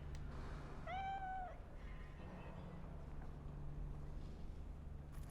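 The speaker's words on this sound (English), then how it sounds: "That's a cat." A cat in the video game Cyberpunk 2077 lets out a single short meow early on, clear but fairly quiet, over a constant low ambient hum with no other notable sounds.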